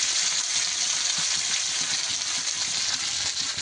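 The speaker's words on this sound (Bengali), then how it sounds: "এগুলো আমরা ভালো করে ভেজে নেব" Onion, garlic, chopped tomato and slit green chillies frying in hot oil, a loud continuous sizzle with no break, close up.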